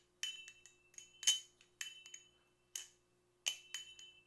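Metallic ringing taps and clinks from a Channel Reaper v2 balisong knife with Zen pin pivot screws, a series of short bright chimes with brief resonant tails, close and alone in a quiet room.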